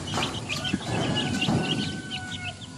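Month-old light-coloured Colombian Brahma chicks give soft repeated clucks and chirps over steady background noise, several birds calling close by.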